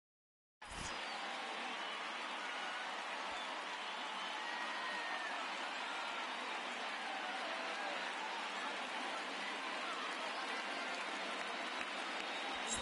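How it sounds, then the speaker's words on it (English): Rain at a baseball stadium in a PS4 baseball video game, a steady, even hiss that starts abruptly and continues unbroken with no talk. "There is rain in the area"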